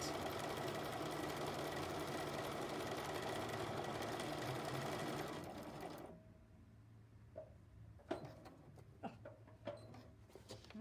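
A sewing machine stitches paper piecing for a quilt block at a steady fast hum for several seconds, then stops, followed by quiet handling clicks and taps nearby.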